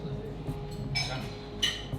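Wine glasses filled with vinho verde clink in a toast, two short bright chimes about half a second apart over a low murmur of background voices at an outdoor spot in Portugal.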